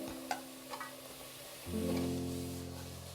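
Beans and potato drop into hot oil for millet biryani, a few light clinks followed by a sudden loud rush of frying that keeps sizzling steadily and close.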